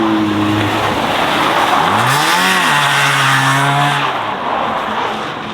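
A rough, harsh-sounding car engine revs hard and loud while drifting on a paddock with only one wheel spinning, pitch climbing and falling through several surges over a steady roar of tire and exhaust noise.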